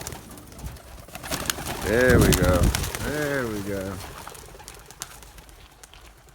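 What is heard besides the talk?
racing pigeons released, young bird team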